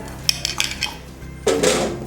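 Honey amla gooseberries drop into a metal pot of water, giving a few light clinks and knocks followed by a louder splash and clatter near the end, close and brief.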